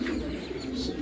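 Pigeons coo at a pigeon farm in Meerpet, Hyderabad, a brief low throaty cooing close by over soft background bird chatter.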